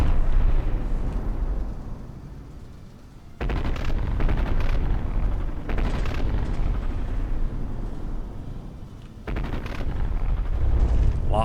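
Battleship artillery booms and rumbles in a naval combat video game, heavy salvos arriving as sharp loud blasts with deep rolling tails, separated by brief lulls in the low thunder.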